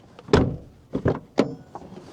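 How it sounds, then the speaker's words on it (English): The rear door of a 1999 Mazda Protege is pushed shut, giving a near, solid thunk followed by a couple of softer latching knocks and clicks, with no talk. "If I close the door,"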